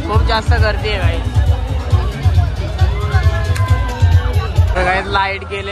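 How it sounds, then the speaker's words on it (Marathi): Dense crowd hubbub at the Sajgaon jatra fair in Khopoli, a continuous loud babble of many voices with shouts rising throughout, near and crowded, with no break for the whole stretch. "खूप जास्त गर्दी आहे गाईज।"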